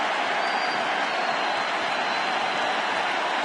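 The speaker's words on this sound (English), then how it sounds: "George W.'s clapping" Steady, dense crowd applause at a World Series baseball game, Game 4 in October 2010, a continuous wash of clapping from a large stadium audience with no pauses.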